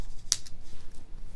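Scissors snip open a strand of beads in a single sharp, close cut over a quiet room hum.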